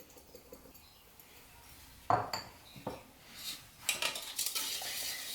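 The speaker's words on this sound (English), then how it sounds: "I'm just using a whisk, adding the egg and the dry ingredients together" A whisk clatters against a bowl while egg is mixed with dry ingredients, producing a sharp knock followed by irregular scraping and rapid tapping that builds toward the end.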